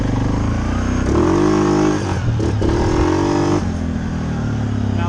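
Loud, close revving from a Suzuki KingQuad 750 ATV, the engine note rising sharply, dipping briefly and climbing again, held high near the rev limiter with a rough buzzing edge.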